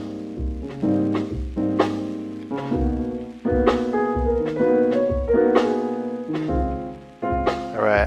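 A finished song arranged on an Akai MPC plays throughout, with steady punchy drums, a rhythmic bassline and layered melodic parts in a continuous groove, with no talking.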